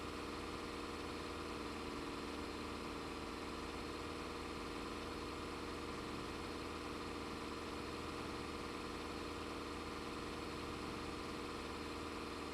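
A tractor engine idles steadily in Farming Simulator 25, a faint, continuous low rumble with even vibration and no change in pitch throughout.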